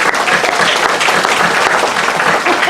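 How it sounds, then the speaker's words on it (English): An audience at an afternoon outdoor park show claps loudly and steadily, a dense, continuous round of applause heard from within the crowd. "Let's give him a round of applause."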